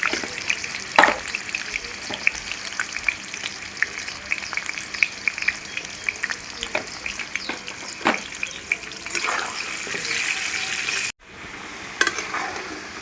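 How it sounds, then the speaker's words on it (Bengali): Potatoes frying in oil with salt and turmeric, a steady close sizzle with occasional stirring clicks, continuing without speech for the whole stretch and dropping briefly near the end before resuming. "নুন আর হলুদ দিয়ে আলুগুলো ভালো করে ভেজে নেব।"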